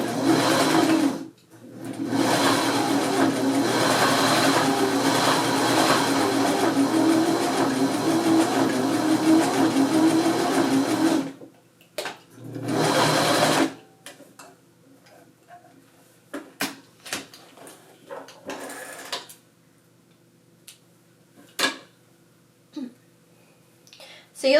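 Domestic sewing machine running a steady back stitch for about eleven seconds, a continuous close mechanical whir with rhythmic ticking, then a brief second burst before quiet handling clicks and light rustling.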